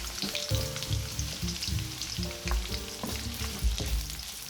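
Onions fry in olive oil in a pan, giving a bright, close sizzle with rhythmic stirring scrapes and pan knocks over a few seconds, with no voices.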